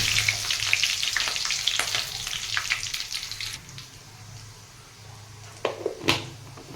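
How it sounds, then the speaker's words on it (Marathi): Garlic and curry leaves sizzle in hot oil in a frying pan, a steady close hiss that thins out midway, with a couple of sharp clinks and a stir toward the end. "आता लसूण परतलेला आहे आता कढीपत्ता टाकायचा"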